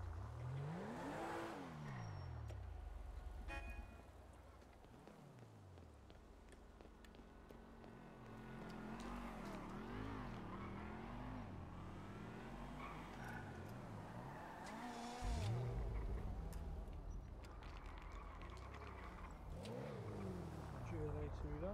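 Video game car engines rev and accelerate through repeated rising and falling pitch sweeps, with tire squeals and skids, while people talk over the driving throughout.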